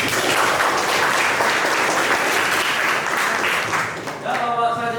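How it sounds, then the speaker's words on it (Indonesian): Audience applause for a presenter in a classroom setting, a full, continuous burst of many hands clapping that holds steady, then fades near the end as a voice begins speaking. "Yuk, silakan tepuk tangan untuk Bapak."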